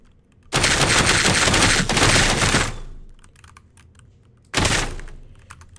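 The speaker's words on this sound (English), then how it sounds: "I can hear you guys shooting, bro." Loud, close bursts of automatic gunfire from a horror video game: a sustained rapid volley of about two seconds, a quieter stretch with scattered faint shots, then another short burst.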